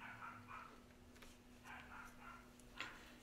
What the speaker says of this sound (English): Oh, the dog next door is going nuts.